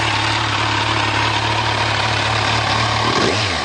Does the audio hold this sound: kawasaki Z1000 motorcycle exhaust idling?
yes